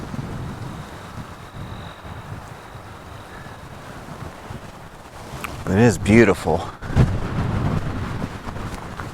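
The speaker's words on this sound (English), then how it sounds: "but also a wonderfully windy day here in Wyoming" Gusty wind on an open Wyoming landscape buffets the microphone with a low rumble throughout, and a person speaks briefly partway through.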